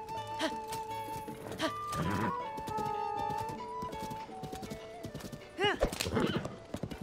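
Rhythmic hoofbeats of a galloping horse with a whinny in Zelda: Tears of the Kingdom, over a steady musical background, as a voice speaks briefly.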